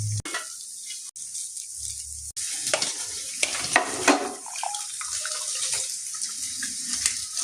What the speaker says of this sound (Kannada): ಪ್ಯಾನ್ ತಗೊಂಡು ಚಿಕ್ಕದಾಗಿ ಕಟ್ ಮಾಡ್ಕೊಂಡಿದ್ದು ಸ್ವಲ್ಪ ಎಣ್ಣೆ ಹಾಕ್ಕೊಂಡು ಪನ್ನೀರ್ ಹಾಕಿ ಫ್ರೈ ಮಾಡಬೇಕು.